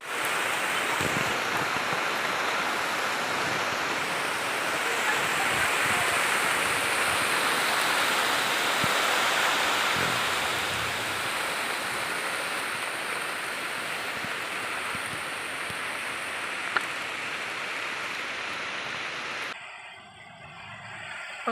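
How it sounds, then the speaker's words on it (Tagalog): Strong storm wind blowing behind a house during a typhoon with heavy rain, a loud steady roar that swells and eases in long surges, cutting off sharply near the end. "Yun hangin ang lakas, parang may bagyo."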